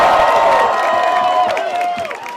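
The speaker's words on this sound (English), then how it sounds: "give Evelyn a huge round of applause" Crowd applause and cheering at an Andrew Yang campaign rally in Atlanta, loud and sustained clapping with shouts mixed in, fading slightly toward the end.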